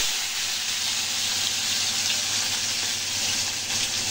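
Bitter gourd and potato pieces frying in hot oil seasoned with panch phoron, giving a steady, dense sizzle that carries unbroken and fairly close throughout, with no talking.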